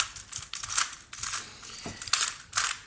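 A twisty puzzle being scrambled by hand, a run of quick, close plastic clicks and ratcheting turns in irregular bursts, with short pauses between twists.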